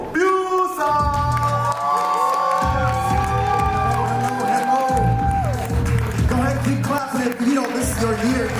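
A large audience at a sales motivational event claps and cheers loudly and steadily, with whoops rising through the noise. Music plays with a sustained tune.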